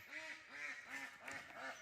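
A white duck quacks in a steady series of short, nasal calls, fairly close and clear against light background noise.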